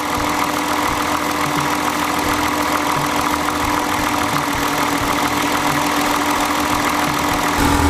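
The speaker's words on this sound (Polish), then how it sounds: "to nagramy jak słychać silnik" Car engine running at idle, recorded with the camera lying on the engine, a loud steady vibrating drone with a faint ticking rhythm throughout and no voices.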